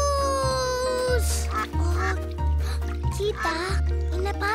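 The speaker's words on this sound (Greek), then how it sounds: "Φλοπ, η πάπια έκανε κουάκ στο Χόπιτι." Cartoon ducks in the animated Bing series let out repeated short quacks over a bouncy musical score, with a voice talking nearby.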